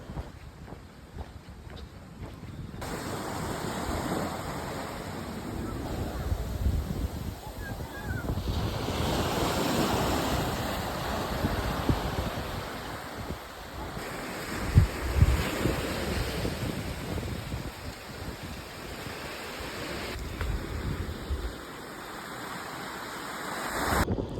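Ocean waves roll and wash onto a beach on Weh Island, Sumatra, Indonesia, in broad surges, with gusty wind buffeting the microphone throughout.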